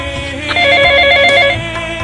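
An electronic phone ringtone trills loudly in a repeating warbling pattern, close by, over a background hum.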